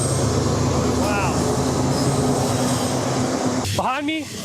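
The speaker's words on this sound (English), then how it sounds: "Behind me, there's a train." A train rumbles steadily across a railway bridge in the background, a broad continuous roar with faint squealing tones, and a brief sharper burst near the end.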